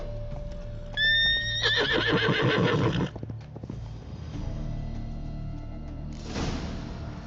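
Horse in The Witcher 3: Blood and Wine gives one loud, close, shrill neigh with a quavering whinny, followed by scattered hoof thuds and clip-clops on the ground.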